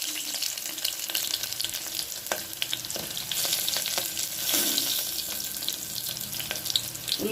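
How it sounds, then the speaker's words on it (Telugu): Sliced onions fry in hot oil with mustard seeds and cumin as tempering for a cucumber dal, a steady bright sizzle broken by the clinks and scrapes of a spoon stirring the pan. "ఉల్లిపాయలు కొంచెం వేగనిద్దాము. తాలింపు ఇలాగా బాగా వేగనివ్వండి."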